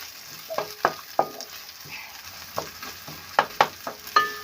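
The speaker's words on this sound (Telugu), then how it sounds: "కొంచెం బ్రౌన్ ఆనియన్ కోసం అయితే కొద్దిగా ఫ్రై చేసుకుంటాను" Onions fry until brown in a pan for egg biryani, a soft steady sizzle punctuated by several sharp, close spatula taps and scrapes against the metal, with no voices.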